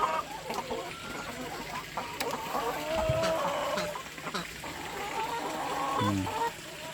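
Laying hens about one and a half years old, kept semi-free-range on a small home farm, cluck and squawk repeatedly, with several birds calling close by in irregular bursts and no speech.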